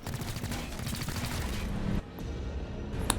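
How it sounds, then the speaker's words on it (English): Rapid gunfire in XCOM Chimera Squad, a dense sustained burst of shots for about two seconds, then a brief lull and a single sharp shot near the end, loud and close. "Oh, that was some good shooting."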